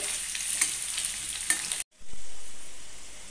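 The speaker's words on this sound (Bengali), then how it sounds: "আমি দিয়ে দিচ্ছি কেটে রাখা আলুগুলো। আলুটাকে কিন্তু ডিপ ফ্রাই করতে হবে।" Cut potatoes deep fry in hot oil for a spicy potato fry, a loud steady sizzle with faint stirring that stops abruptly partway through, leaving quieter background noise.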